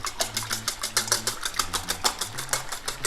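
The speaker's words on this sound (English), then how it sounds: "I'm just going to give this a whisk." Five eggs are beaten briskly in a bowl for a Spanish omelette, producing a fast, even rhythm of close whisk strokes.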